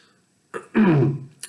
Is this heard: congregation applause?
no